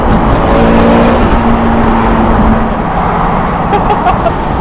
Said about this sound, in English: You can hear more of the engine than you can the exhaust.